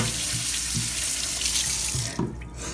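A tap runs steadily into a kitchen sink while turkey tails are washed, a close continuous splashing stream with a few soft knocks before it thins out near the end.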